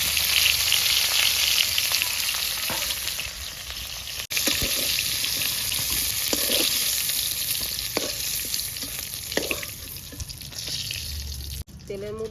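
Rohu fish pieces frying in hot oil hiss and sizzle in a steady wash, with occasional clinks and scraping stirs from a utensil in the pan as the frying finishes.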